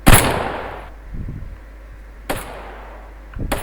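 Gunfire in a GTA roleplay video game: three sharp, loud shots spaced about a second apart, each with a short ringing tail, and a muffled thump in between.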